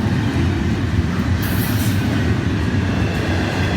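Train 101, pulled by three locomotives, arrives with a loud, continuous rumble of wheels and engines that fills the whole stretch, with a brief high squeal of wheels partway through and no talking.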